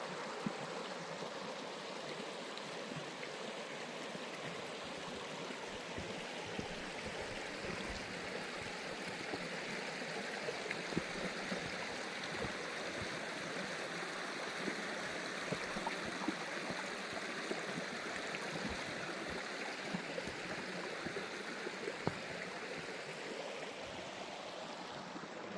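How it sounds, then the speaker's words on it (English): Creek water rushes and gurgles over rocks at a hiking creek crossing in Carnarvon Gorge on the edge of the Australian outback, a close, steady broadband flow lasting throughout with no voices. "This is creek crossing number 3."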